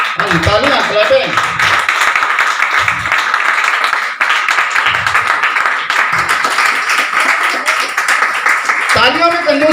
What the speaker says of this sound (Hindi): तालियां क्लैपिंग।